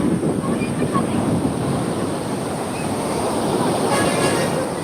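Surf rolls in at Azhikkal beach, a steady close wash of breaking waves mixed with gusty wind buffeting the microphone, with no clear pauses.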